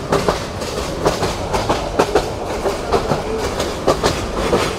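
Mohanganj Express train running from Dhaka to Mohanganj in Bangladesh, with a steady rumble and a continuous clickety-clack of wheels over rail joints, recorded close from on board.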